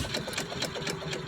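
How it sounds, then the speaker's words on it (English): A Stover hit-and-miss engine runs with a fast, even mechanical chatter and rhythmic knocking, steady and close throughout, with no talk. "these hit miss engines, which I'm showing you right now"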